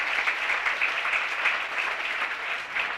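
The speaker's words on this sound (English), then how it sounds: "Give them a round of applause." An audience applauds at the VOWOC 2018 Trailblazers Awards Ceremony, a dense, steady wash of clapping from a crowd that holds at an even, fairly loud level throughout with no voices over it.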